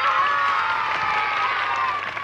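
Studio audience applauding and cheering for a young woman contestant during a competition on a variety show, a steady dense wash of crowd noise with shouts mixed in, loud and sustained throughout.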